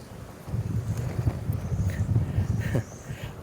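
Wind gusting outdoors on a porch being decorated for Halloween, a low rumbling buffet against the microphone that swells and eases in uneven gusts over a few seconds, fairly close and steady.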